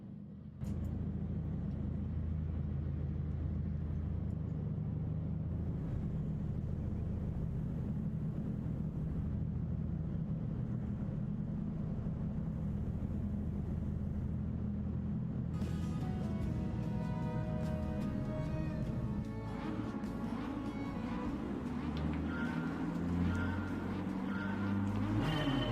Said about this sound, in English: I'll turn the engine up so you can hear it.